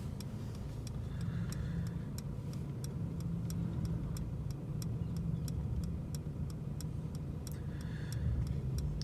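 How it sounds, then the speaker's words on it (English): Regular ticking of a Mercedes turn signal while the car self-parks in reverse, an even, steady click over a low engine and cabin rumble. "It's signaling itself, it's reversing itself."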